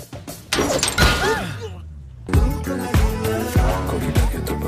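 A car window shatters with a sharp crash amid thumps and bangs, followed by heavy impacts and rumbling, loud and close.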